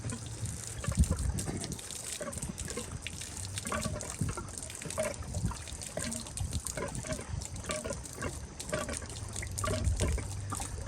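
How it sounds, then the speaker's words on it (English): Water from a pool line being blown out for winterizing drains onto the ground in a steady, faint trickling gush that runs continuously, with a few louder bursts at the start and end. "that's going to dump a lot of water on the ground"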